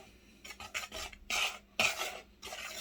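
Flour and baking powder being stirred into cake batter in a bowl, a run of close, distinct scraping and rubbing strokes in uneven bursts, with no voices.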